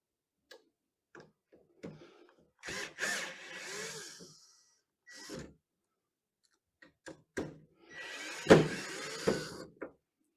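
A power drill backs screws out of an RV screen door in short, close whirring bursts separated by quiet pauses, with small clicks and handling taps between them.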